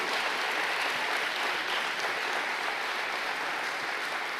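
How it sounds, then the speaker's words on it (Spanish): A church congregation applauds during a Sunday service, giving sustained, even clapping that fills the space at moderate volume throughout, with no speech on top. "Sí, den ese fuerte aplauso a Jesús."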